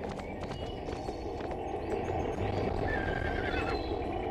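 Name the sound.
horse neighing and hooves in Barbie Wild Horse Rescue video game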